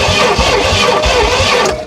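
A 1968 Oldsmobile Toronado that sat unused for 46 years, its starter cranking the engine continuously with rough, pulsing turnover, close and loud throughout.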